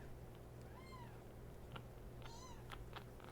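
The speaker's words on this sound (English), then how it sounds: "he's too loud, so it only hears the meowing" Two faint, high kitten meows about a second apart over a low steady hum, followed by a few soft clicks.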